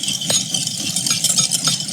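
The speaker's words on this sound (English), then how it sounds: "Now let's whisk it up." Rapid rattling clatter of a whisk beating a vegan dressing in a bowl, close and steady with quick repeated taps throughout.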